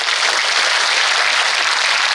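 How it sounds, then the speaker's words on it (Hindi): A church congregation at a spiritual retreat claps in thanks, a dense, loud, continuous wash of applause with no break from start to finish. "उस प्यार के लिए अब आप धन्यवाद देते हुए तालियां बजाओ"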